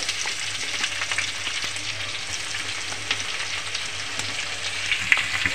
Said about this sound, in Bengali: পেঁয়াজটাকেও ভেজে নেব